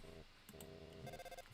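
An electronic phone rings in the video game Underswap, a buzzing tonal trill repeating in short bursts with brief gaps, steady and fairly faint.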